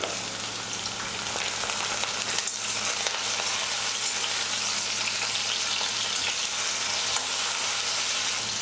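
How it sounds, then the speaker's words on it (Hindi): Potatoes frying under a lid in a pan over a medium flame, giving a steady, even sizzle that holds at a moderate level throughout with no voices. "ढक्कन लगा देते हैं और मीडियम फ्लेम पर फ्राई करेंगे।"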